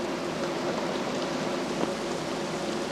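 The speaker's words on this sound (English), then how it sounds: "Look at that rain." Heavy rain falling outside, a steady broadband hiss of drops striking surfaces, constant and moderately loud for the whole stretch, with no voices.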